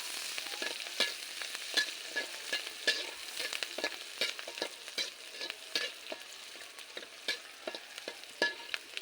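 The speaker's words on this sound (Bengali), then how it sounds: "দেখেন পেঁয়াজ মরিচ এটা ভেজে নেওয়া হবে" Onions and chilies fry in a pan while a utensil stirs them, giving a soft, steady sizzle under repeated sharp scraping clicks against the pan, with no talking.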